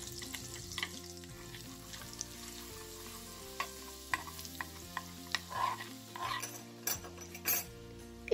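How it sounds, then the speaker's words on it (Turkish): Crushed garlic fries in melted butter in a small saucepan with a soft, steady sizzle, broken by intermittent scraping and clinks of a utensil stirring against the pan, close and alone with no voices. "1 tatlı kaşığı tereyağını sos tenceresine koyup güzelce eritiyorum ve üzerine de 2 diş ezdiğim sarımsağı ilave edip sarımsağı da kavuruyorum"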